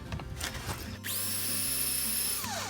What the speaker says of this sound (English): we can't drill all the way till this piece is through the metal